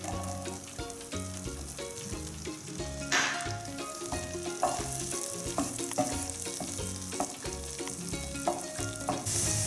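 Onions frying in a pan for beef stroganoff, a loud continuous sizzle with repeated stirring scrapes and clinks of a utensil against the pan, no talking.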